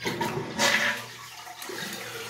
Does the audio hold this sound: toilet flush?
yes